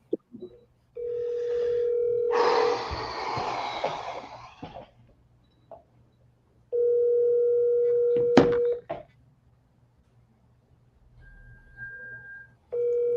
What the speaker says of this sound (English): I'm double dialing.